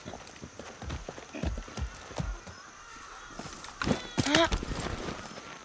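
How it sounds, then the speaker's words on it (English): Horse hooves clip-clopping in Far Cry 6, a loose run of hoof falls at close range mixed with a brief whinny, while someone talks to the horse throughout. "Hey, horse. Ready to go?"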